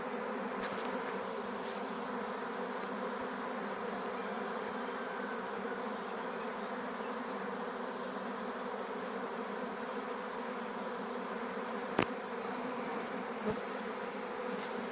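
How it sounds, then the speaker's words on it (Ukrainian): A dense, steady drone of a swarm of free-living honeybees buzzing together, continuous and close, with a couple of brief clicks and no voices. "Вільні бджоли."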